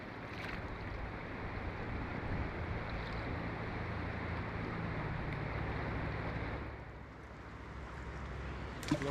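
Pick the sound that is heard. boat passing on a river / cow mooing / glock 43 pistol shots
boat passing on a river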